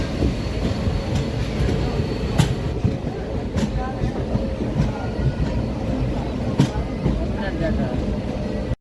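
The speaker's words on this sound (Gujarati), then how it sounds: "અંદરવાળી ટ્રેન હાલતી થઈ ગઈ છે" A train starting to move on the neighbouring track at a station on the Rajkot–Porbandar route during rain, heard from inside a stationary train as a steady, close rolling rumble with occasional wheel clacks. Voices may be faintly present.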